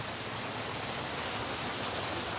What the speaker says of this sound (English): Oh, the rain's starting up again.